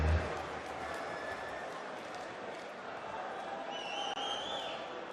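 A large darts crowd at the 2017 German Darts Championship final roars and chants steadily for Peter 'Snakebite' Wright, a dense wash of many voices filling the hall.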